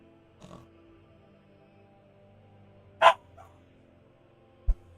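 Dogs bark somewhere in a quiet room: a faint yip, then one sharp, louder bark, and a brief final woof, with long silent gaps between them.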